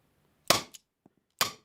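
Two sharp, snappy pops about a second apart from a Tanaka S&W Model 36 Ladysmith airsoft revolver firing BBs, each with a quick bright crack, and a faint click between them; close and dry.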